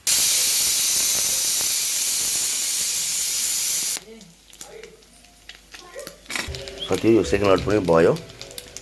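Buffalo meat achar deep frying in hot oil with spices roars with a loud, close, continuous hiss for about four seconds, then cuts off, leaving quieter kitchen clatter while a person talks.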